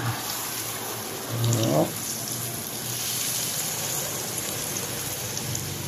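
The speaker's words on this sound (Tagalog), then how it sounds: "Siyempre, kailangan lagyan natin ng tubig." Water pours into a pot of chicken afritada with tomato sauce, a steady splashing hiss with a brief rising gush in the middle, heard close and moderately loud.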